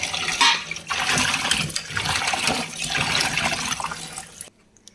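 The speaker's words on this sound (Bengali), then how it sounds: "এগুলোকে কেটে নিয়েছি ভালো করে ধুয়ে নেবো" Cut puti fish being rinsed by hand in water, with continuous splashing and sloshing that stops abruptly near the end, leaving near silence.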